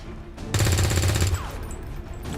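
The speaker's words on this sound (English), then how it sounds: "And I will shoot him." A soldier's rifle opens fire in XCOM 2, a loud, tight burst of rapid automatic shots lasting nearly a second, then a rumbling tail and quieter game ambience.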